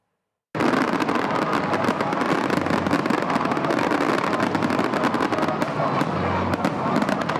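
A New Year fireworks display bursts over Abidjan before thousands of spectators: after a brief silence, a loud, dense, unbroken barrage of crackling explosions and pops.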